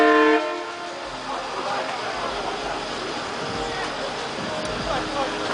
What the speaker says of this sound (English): Honk it again, dude.